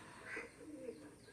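Sakhi Teddy pigeons give a soft low coo or two, faint and close amid quiet background, with no speech over it.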